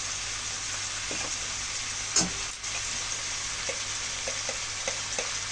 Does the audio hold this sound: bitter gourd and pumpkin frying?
yes